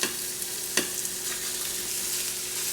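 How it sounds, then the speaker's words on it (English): Pieces of leftover prime rib sizzle in a hot pan for chili, a steady, close frying hiss with a sharp crackle burst early on and faint stirring clatter, no voices. "I threw a few pieces of meat in there to get it sizzling."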